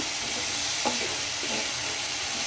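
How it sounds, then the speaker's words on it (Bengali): Chopped tomatoes stir-fried in a pan for pasta, a steady close sizzle with faint scraping of the stirring, no voices. "টমেটোটা দিয়ে আবার একটু কষিয়ে নিচ্ছি সুন্দর করে, যাতে টমেটোটা একটু মাখো মাখো নরম হয়ে যায়"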